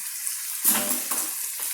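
Cooked Shin Ramen noodles being drained of water, a gush of pouring and splashing that starts abruptly partway through and continues with gurgling bursts, close and alone.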